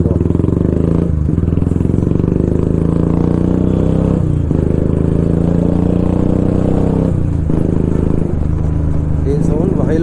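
Loud, close, continuous thump of a Royal Enfield Classic 350 Bullet single-cylinder engine on a Bangalore ride, a steady low throb with slight rises in revs and a voice talking over it.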